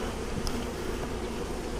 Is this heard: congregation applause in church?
no